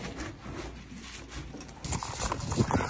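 Horse hooves clip-clopping on a farm on the way to pasture, a brisk, uneven patter of steps at moderate distance that grows busier and louder in the second half, with no talk.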